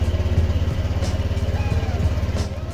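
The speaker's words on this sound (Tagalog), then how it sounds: "Buksan ang ating motor upang mag-circulate ang oil sa loob ng ating makina." Honda Click 125i scooter engine idles after an oil change, a close, steady rhythmic putter with a light mechanical clatter and no voices.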